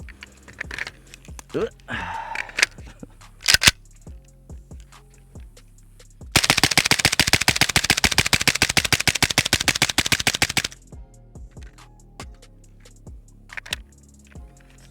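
A suppressed Stenzel SAK-21 AK rifle, fitted with a Serbian Zvuk suppressor, fires a rapid sustained string of sharp cracks for about four seconds, preceded and followed by a few scattered single shots and handling clicks.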